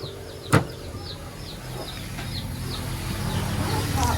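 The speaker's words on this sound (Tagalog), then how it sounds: "Ayan. Manok." Chickens outdoors cluck and call in a string of short, repeated notes at moderate distance, with a single sharp knock near the start and a steady background rumble underneath.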